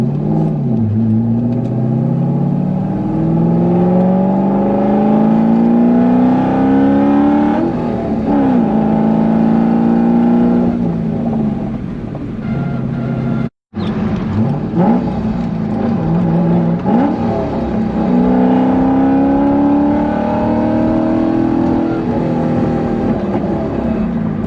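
A cammed C5 Corvette Z06 engine revving and accelerating on a highway, loud and close, with rising and falling pitch sweeps as it climbs through gears, one brief cut near the middle.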